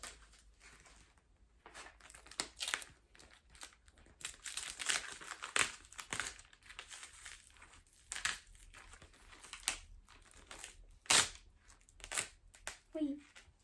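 Dried paint is peeled off a palette page in a home art studio, producing soft irregular crinkling and tearing crackles, close and quiet, with a few faint murmurs.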